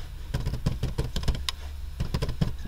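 Computer keyboard typing, entering text into a purchase-order scheduling form: quick irregular key taps in two short bursts, close and fairly quiet, with no talking.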